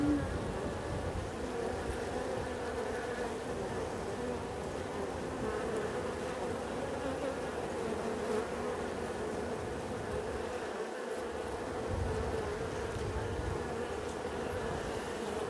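Honey bees buzz steadily and densely around a beekeeper working an open hive, a continuous close droning hum with no talking.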